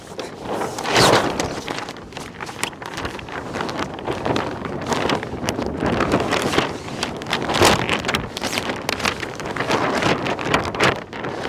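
Strong wind on a cloudy beach at Pozo before windsurfing, a steady broadband rush with gusting buffets against the microphone throughout, loud and continuous with no voices.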